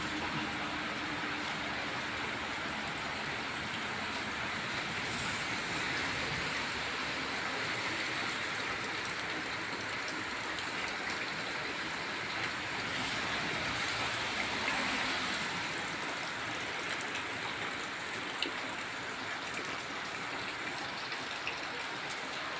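Steady overnight rain falls continuously on temple premises, a dense even hiss and patter with no voices, holding at the same level throughout.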